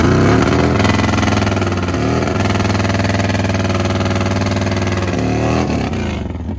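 A nitrous-fed Harley Road King drag bike roars at full throttle down a drag strip, a loud, sustained engine blare with gear-change dips, alone and close.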